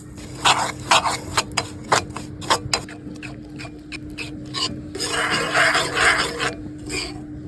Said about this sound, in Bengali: তো দেখুন চিনি গলতে শুরু করে দিয়েছে এখন আমি আস্তে আস্তে নাড়তে থাকবো